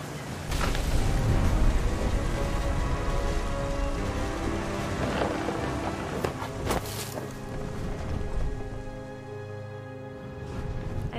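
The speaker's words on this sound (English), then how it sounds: "The thunder sounded much too close and full of angry power." Heavy rain and thunder in the video game What Remains of Edith Finch, a dense continuous downpour with rolling thunder rumbles and sharper cracks partway through, loud and without voices.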